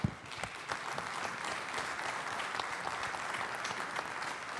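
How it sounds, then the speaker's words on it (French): An audience at a panel on industrial incident response claps steadily, a sustained round of applause from a crowd with no talking. "je vous demanderai de m'accompagner dans une chaude main d'applaudissements pour nos panélistes"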